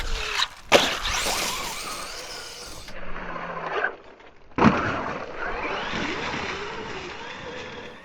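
A Traxxas Maxx 4S RC car at full throttle during a park bash, its motor whining loud and close in bursts that cut out briefly and then build again.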